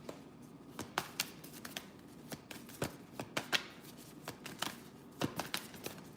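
Tarot cards being shuffled and drawn close up, a run of soft riffling slaps and flicks at an uneven rhythm over quiet room tone.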